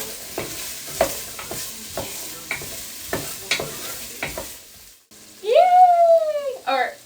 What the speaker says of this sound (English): let this simmer down